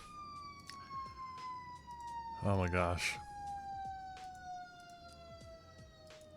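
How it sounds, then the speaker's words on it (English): A fire truck siren wails through a small residential cul-de-sac, its steady tone sliding gradually downward as it passes close by, with a brief exclaimed voice in the middle. "now that's a fire truck in my little tiny cul-de-sac."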